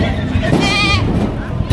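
Goats bleat at an outdoor livestock market for cattle, goats and water buffalo, a wavering cry rising over steady crowd chatter and nearby conversation.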